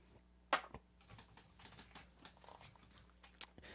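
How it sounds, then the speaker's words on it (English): Sharp, faint clicks from a fidget object being opened and closed during a livestream, scattered irregularly at close range with one louder snap near the start. "that irritating clicking, it's because I've been opening and closing this thing"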